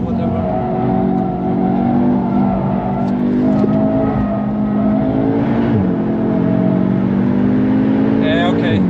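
A 528 hp Audi S3 accelerating on the Nürburgring, heard from inside as a loud, steady engine drone with rising revs and a quick shift, with people talking over it.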